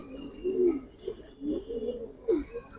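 Giribaz pigeons coo nearby in three or four separate rolling phrases, each swelling and fading, at moderate loudness over faint background hiss.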